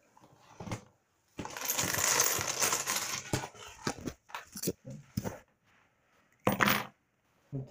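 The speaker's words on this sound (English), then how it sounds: "Take all the coins out of it now." Coins are taken out of a wet, sinking Lego ship, giving bursts of metallic clinking and rattling, dense in the middle and then sparse, close and fairly loud.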